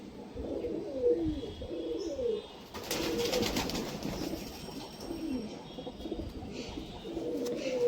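Pigeons at a Krishnanagar fancier's loft coo in repeated rolling phrases close by, with a burst of noise midway and soft chirps throughout.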